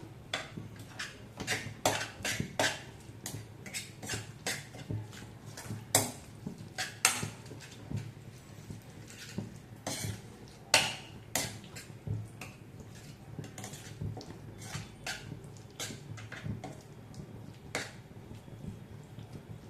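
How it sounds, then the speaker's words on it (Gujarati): A spoon stirs a creamy, cheesy pasta mixture in a pan on the stove, giving a continuous run of close, light metallic clinks and scrapes at an uneven rhythm. "હવે આપણે ગેસની ફ્લેમ ઓન કરીશું અને આ બધી જ વસ્તુને બરાબર મિક્સ કરી દઈશું"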